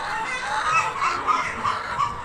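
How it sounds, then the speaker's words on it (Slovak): A laying hen on a chicken farm clucks softly in a low, continuous murmur with small rhythmic pulses, close by and moderately loud. "Takto si kvoká, keď čaká kohúta."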